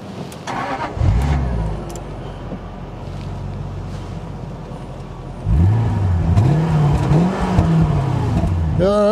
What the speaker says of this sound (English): for a big old V8, dude, that is too quiet